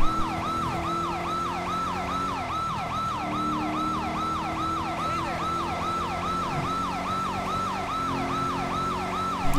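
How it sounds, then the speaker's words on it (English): A police car siren from GTA V with the LSPDFR mod wails steadily in a fast rising-and-falling cycle, loud and close throughout, with engine rumble from a 2018 Dodge Charger underneath. "Because that siren just sounds so good."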